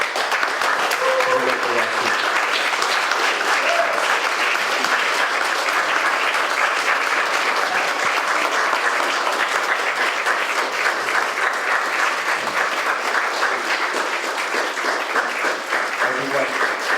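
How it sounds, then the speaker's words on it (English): A lecture audience claps at the end of a talk, a long, even roar of many hands that holds steady for the full stretch, with a faint voice or two surfacing briefly beneath it. "let's give a clap"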